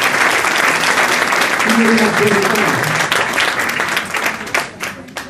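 Audience applause fills a foster family association gathering, steady and loud from start to finish, thinning slightly toward the end while a voice speaks over the clapping.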